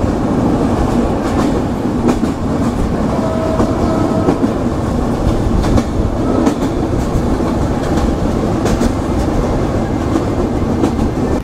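Sagardari Express of Bangladesh Railway, running between Khulna and Ishwardi, gives a loud, steady rumble with rhythmic clickety-clack from the wheels over rail joints, continuous and close throughout.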